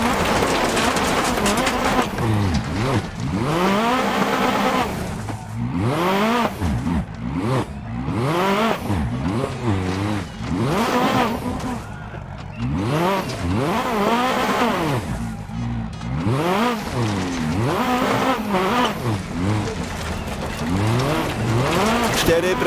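A rally car on a wet daytime New Zealand stage in Dirt Rally 2.0 roars loudly through repeated rising revs and gear changes, with tire squeals and skids between bursts.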